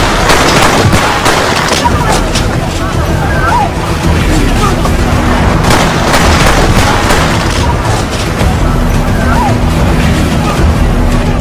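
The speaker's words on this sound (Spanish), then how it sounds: "Al sonar esos disparos, pensé que teníamos a un nuevo Kennedy" A loud, chaotic scene of rapid popping gunshots at the 1981 shooting of President Ronald Reagan, amid shouting crowd noise and traffic, dense and continuous throughout.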